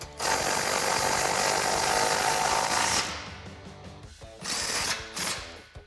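A power impact tool tightens exhaust bolts on a Jeep Wrangler JL 2.0L with a Magnaflow cat-back system, one loud continuous run for about three seconds followed by shorter bursts with brief pauses.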